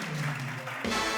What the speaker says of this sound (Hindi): आप लोगों के लिए बहुत सी तालियां